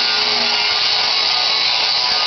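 An angle grinder grinds a high weld off the rust-repaired metal body of a 1986 Jeep, giving a loud, steady, unbroken grinding whine held close throughout.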